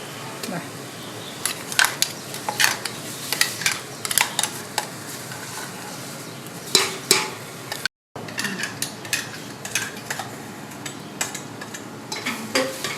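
Masala paste for beef vindaloo is stirred and sautéd in a pan, with soft scraping taps of a spoon and a faint sizzle in an irregular rhythm; a voice talks briefly.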